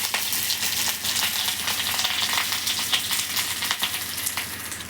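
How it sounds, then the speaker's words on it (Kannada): Mustard seeds, chana dal, curry leaves and dry chillies crackle and sizzle in hot oil for tempering, a steady close hiss broken by small sharp pops throughout. "ಎಣ್ಣೆ ಕಾದಿದೆ, ಸ್ವಲ್ಪ ಸಾಸಿವೆ ಹಾಕೋಣ, ಸ್ವಲ್ಪ ಕಡಲೆಬೇಳೆ, ಕರಿಬೇವು,"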